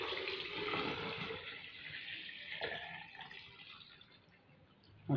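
A jar of water poured steadily into freshly made fruit juice, a continuous close splashing rush that runs for several seconds and tapers off near the end.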